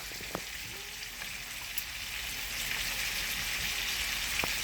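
Chicken pan-frying in oil, deep-fry style, giving a steady close hiss of sizzling with scattered crackles and pops, growing slightly louder toward the end; no voices.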